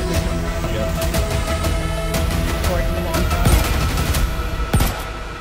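Gunfire in a large Star Citizen PvP battle around a bunker: dense, overlapping shots and bursts with sharp cracks and booms throughout, loud and close, with people talking over the fighting.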